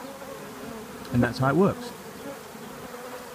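Honey bees buzz around a queenless hive with a low, steady drone throughout, briefly overlaid by a short spoken phrase partway through.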